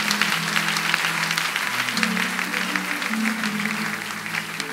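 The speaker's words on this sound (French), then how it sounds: "Acclame Jésus" A church congregation applauds during a French-language sermon, steady sustained clapping from many hands filling the room, with a low hum of voices underneath.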